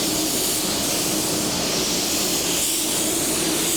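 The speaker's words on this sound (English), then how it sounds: "It's a very soft spraying gun." Avalon A60 spray gun laying a coat of sealer on a car bumper, a steady, soft, broadband airy hiss running continuously and close up with no talk.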